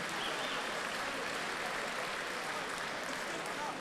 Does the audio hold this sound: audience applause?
yes